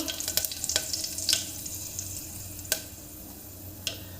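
A whole sprig of curry leaves crackles in hot oil as tempering for a cabbage and potato dish, with a steady sizzle and scattered sharp pops and clicks.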